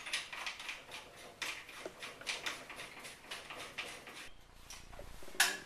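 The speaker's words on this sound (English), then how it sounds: "Drop your barrel in. Replace the barrel nut." Quiet rhythmic ticking and small metallic clicks, close and faint, as a barrel nut is threaded back onto an Uzi submachine gun, ending in a sharper clack; no speech.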